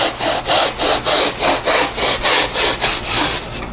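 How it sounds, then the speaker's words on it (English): Hacksaw blade, pulled free of its frame, sawing by hand through wreath-form material in steady back-and-forth strokes, about ten rasping passes, close and loud with no talk. "steal your husband's hacksaw blade out of his hacksaw, and you can just saw right through it"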